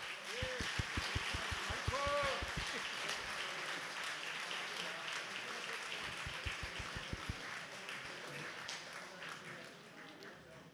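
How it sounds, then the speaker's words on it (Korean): Audience applause at the launch ceremony of a unification advisory council in Toronto, a soft, continuous patter of clapping heard fairly distantly beneath a voice speaking over it in short phrases. "다시 한번 큰 박수 부탁드립니다"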